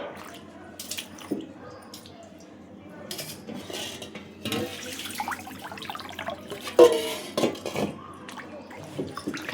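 An old winnowing basket is washed clean by hand with water, giving irregular splashes, drips and hard knocks and clatters against a vessel at close range, with the loudest bumps near the end.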